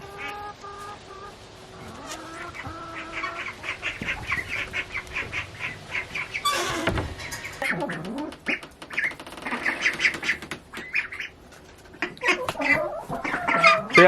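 Baby chicks and ducklings cheep and peep in a busy flock, with clucks and squawks and some rustling close by.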